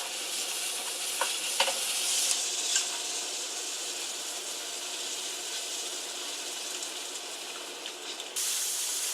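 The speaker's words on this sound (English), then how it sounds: "Then we're just going to add more of this mushroom liquid until it's all finished." Mushroom soaking liquid goes into a hot pan for a vegan lasagne filling, giving a steady, close sizzle and hiss with a few faint clicks of stirring throughout.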